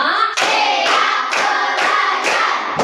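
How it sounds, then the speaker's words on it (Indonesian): A class of second-grade pupils claps in unison in counted bursts, five loud, sharp rounds of many hands striking together in a steady rhythm, close and filling the room. "Tepuk 1, tepuk 2, tepuk 3, tepuk 4, tepuk 5"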